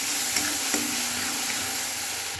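Black cumin paste is worked into a simmering pabda fish curry with tomato, a steady close sizzle and soft frying hiss under a couple of light spoon scrapes against the pan.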